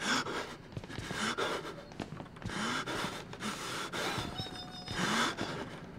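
Heavy, loud panting and gasping breaths from a frightened character in the horror video game Outlast, repeating in uneven ragged bursts, close and prominent, with faint game ambience behind.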